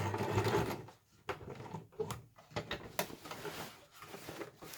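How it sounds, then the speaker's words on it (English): A sewing machine runs steadily, stitching through a single layer of a homemade eco shopper bag, its busy mechanical whir continuing with a brief pause partway through. "you're just sewing through the one layer of bag"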